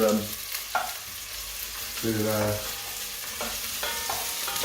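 Chicken curry fries in a pan while a utensil scrapes and stirs through it, several distinct scraping strokes over a steady sizzle, close and moderately loud with no talking.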